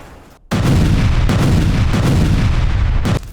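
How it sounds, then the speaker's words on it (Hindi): A sudden massive explosion at an oil site erupts after a quiet moment, followed by a sustained, overpowering roar with further jolts before it drops off. "ऑयल साइट पर अचानक विस्फोट हो गया।"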